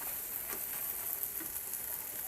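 Chopped banana flower and boiled potato sautéing together in a pan, a faint, even sizzle with soft crackles and gentle stirring, heard alone at low volume for a couple of seconds.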